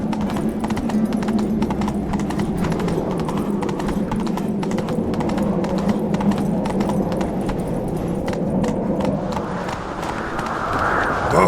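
Roach, Geralt's horse in The Witcher 3, gallops steadily with rapid rhythmic hoofbeats close by, continuous throughout under a low rumbling ambient bed.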